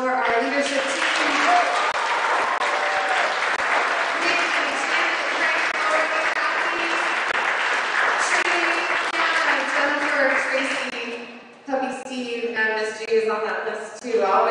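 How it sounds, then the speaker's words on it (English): Audience at the concert applauding the leadership team, a loud, sustained burst of clapping for about eleven seconds that fades out as a voice begins speaking. "Round of applause for our leadership team."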